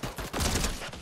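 Gunfire in Fortnite, a quick burst of several shots in a ragged volley, moderately loud and close, lasting about a second.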